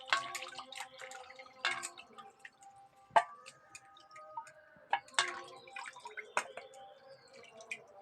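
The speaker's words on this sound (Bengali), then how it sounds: "এবার জলে ধুয়ে নেবো" Chicken legs being rinsed in water by hand, giving scattered splashes, drips and sloshes in an irregular rhythm, fairly quiet and close, with no talking.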